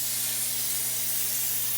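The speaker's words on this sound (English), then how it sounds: "I spray Pam underneath directly on the pan so it doesn't stick" Pam cooking spray hissing from the can directly onto a pan for ribs, one continuous close, loud aerosol spray with a faint low hum underneath.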